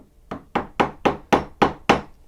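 Chisel struck by a mallet while chopping a half-blind angled dovetail in wood, taken in small bites: seven sharp, evenly spaced knocks, close and clear, with no talking.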